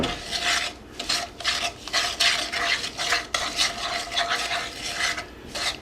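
A utensil stirs and scrapes cookie dough mixture around an iron skillet in quick, repeated rasping strokes, close and steady, with no talking.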